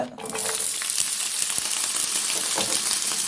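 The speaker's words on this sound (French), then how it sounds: "Je vais mettre les oignons dans la poêle." Onions just dropped into a frying pan crackle into a loud, dense sizzle that continues steadily and close up, with faint scattered pops and no talking.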